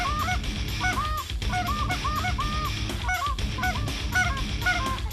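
Flock of geese honking loudly and continuously during a waterfowl hunt in Northern New York, a dense overlapping chorus of calls close by, with a snow goose among them.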